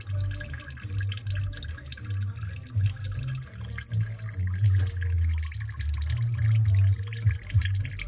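Engine oil draining from a Lexus RX330 during an oil change, a continuous liquid trickle with faint drips over a low, uneven rumble in a garage setting.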